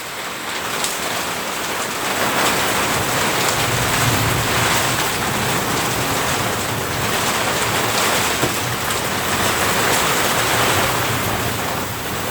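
Heavy rain pours down steadily in a thunderstorm, a dense, loud, unbroken hiss with no distinct thunder claps standing out.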